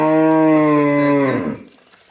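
A large, calm dairy cow gives one long, loud, close moo with a steady tone that fades out at the end, and no voices are heard.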